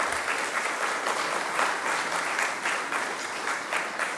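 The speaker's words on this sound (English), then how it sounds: "So big round of applause." Steady, dense applause from a large crowd at an Independence Day company gathering honouring long-serving staff, filling the space evenly and continuously without a break.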